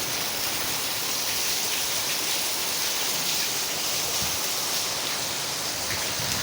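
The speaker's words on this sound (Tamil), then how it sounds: "மழை பாருங்கள், நல்லா சரியான மழை." Heavy rain falls steadily, a dense, even hiss of water pouring down without pause and filling the whole recording, with no voices.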